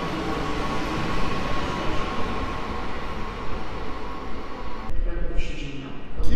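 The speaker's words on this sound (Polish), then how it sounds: "Rusza Elf Kolei Śląskich do Katowic." A Koleje Śląskie Elf electric multiple unit bound for Katowice pulls out of a station platform, its steady rolling rumble and traction hum swelling loud and close throughout, with a brief shift in tone near the end.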